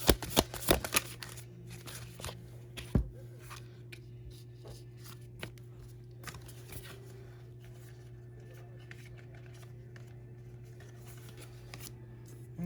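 Tarot cards riffle and flick in a few quick bursts of shuffling early on, then soft occasional card taps over a steady low hum, faint and close by.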